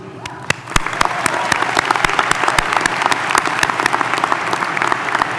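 A large high school graduation crowd applauding faculty and staff, with dense, sustained clapping that swells quickly and holds at a strong, even level, dotted with a few louder individual claps.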